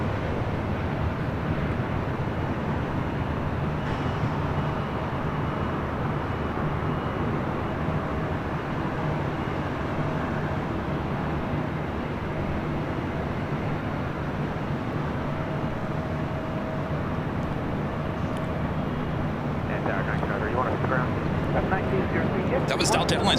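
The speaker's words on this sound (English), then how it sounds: "That was Delta Airlines Flight 1656 coming up from Salt Lake City, A321neo." A Delta Airlines A321neo jet airliner at LAX gives a steady, loud broadband roar that holds for the whole stretch with little change in level, overlaid with wind and background noise.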